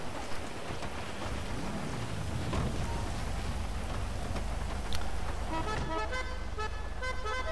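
Steady rain falling in Grand Theft Auto Online, a constant hiss through the whole stretch with a car horn tooting near the end.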